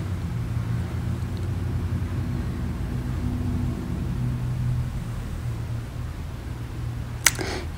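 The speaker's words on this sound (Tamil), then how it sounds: "இந்த சவுண்டு வந்து வந்துகிட்டே இருக்கிறது என்னென்னா ஹீட்ரு போட்டு வச்சுருக்காங்க." A heater runs inside a plant nursery, set to keep the plants from dying in the cold, and gives a steady low hum and whir that holds constant; a short sharp click comes near the end.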